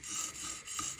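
A Spyderco Magnamax knife blade rasps across a whetstone worked into a slurry, two quick gritty sharpening strokes heard up close and fairly quiet.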